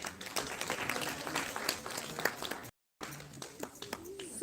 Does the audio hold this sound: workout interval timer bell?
no